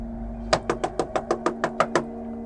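Knocking on a door: about ten evenly spaced, sharp raps in a quick steady rhythm, close and distinct over a faint steady hum.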